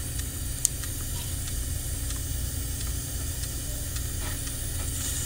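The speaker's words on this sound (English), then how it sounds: "I'm just spraying all around until I hear a difference." A steady, loud hiss of spray is directed around the refrigerant lines of a flat air-conditioning system, continuous throughout with a few faint ticks and no talking.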